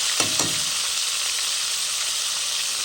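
Smoked boucané meat and onions sizzle steadily in a hot pan, a constant close hiss of frying with a couple of soft stirring scrapes near the start.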